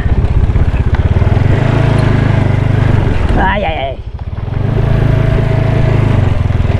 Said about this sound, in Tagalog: Lakas ng motor natin.